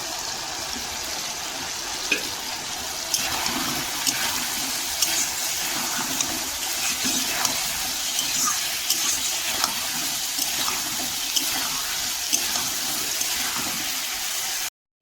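Water splashes steadily into a cooking pan of fried greens, a continuous close gush of pouring and bubbling that runs alone for about fifteen seconds.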